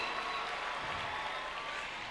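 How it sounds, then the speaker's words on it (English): Graduation ceremony crowd cheering and applauding for the Ibadan principal, a dense wash of steady clapping and distant cheers heard faintly from across a large gathering. "The way they are cheering the Ibadan principal is just like they won African Cup of Nations"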